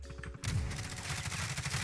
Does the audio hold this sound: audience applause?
no